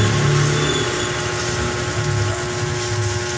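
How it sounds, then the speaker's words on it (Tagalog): Tricycles and other vehicles pass along a road, a loud continuous rumble of small engines with a steady drone and no voices. "maingay din talaga yung mga tricycle, mga sasakyang dumadaan"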